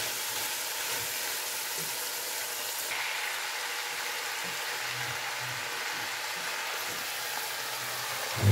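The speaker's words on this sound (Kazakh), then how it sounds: "Пиязы кішкене жұмсарғанда үстінен капустаны" Shredded cabbage and softened onion fry together in a pan, giving a steady, moderately quiet hiss with occasional faint stirring knocks throughout.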